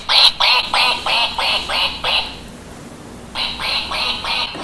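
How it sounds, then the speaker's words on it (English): A duck-shaped battery timer quacks in a steady run of about seven even bursts, pauses for roughly a second, then resumes with several more quacks, close and fairly loud with no talking. "And it will quack for another minute or two, or maybe about 30 seconds."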